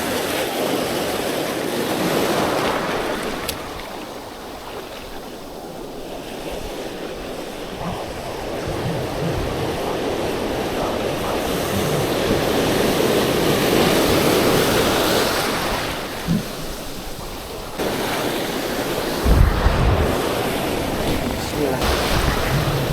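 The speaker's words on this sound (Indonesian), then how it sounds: "Angin besar, gelombang besar." Strong wind and big ocean waves hit the shore at a beach fishing spot. Surf rushes and roars continuously while wind buffets the microphone, with louder gusts and thumps near the end.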